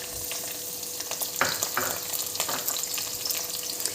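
Curry leaves and green chilies hitting hot oil for a Kerala dried fish curry with mango: a loud crackling sizzle with short stirring scrapes, no voices.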